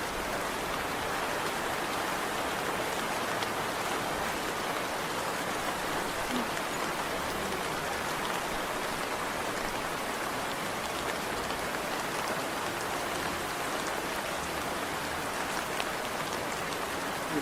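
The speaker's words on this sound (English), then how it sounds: "It's pouring." Heavy rain pouring down in a steady, dense hiss that stays even and loud throughout, with no voices over it.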